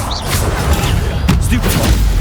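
Stupefy spell cast in Hogwarts Legacy on PC, a sudden magical burst with a booming impact, heard among dense game combat noise and rumble.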